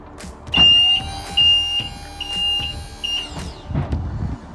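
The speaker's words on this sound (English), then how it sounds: "it has a quite a loud alarm to let people know that you are tipping" A loud, high electronic tipping warning alarm on a Grafter N35.125 tipper truck beeps repeatedly in short pulses over a rumbling engine, with a steady hum beneath and a few clunks.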